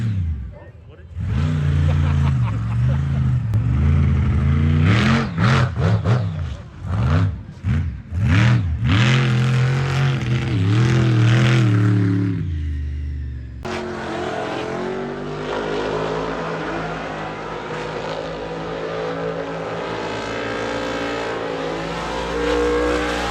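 A Bigfoot monster truck and drifting cars at a Ford event roar and rev loudly, engines rising and falling in pitch, then a steadier engine drone, with voices heard at times.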